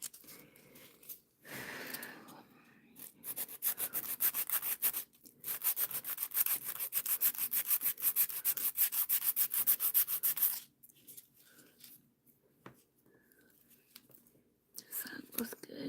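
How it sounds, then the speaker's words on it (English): Steady scratchy rasping of a hand file smoothing the edge of an acrylic nail, continuous for several seconds, close by, with quiet pauses and faint breathy sounds before and after. "let's take the hand file and fix where I scalloped the edge over here"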